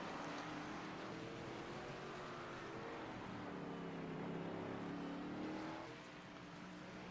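NextGen race cars lapping the nearly four-mile Road America road course, a continuous faint engine roar with rising and falling pitch as cars accelerate and pass, heard from a distance.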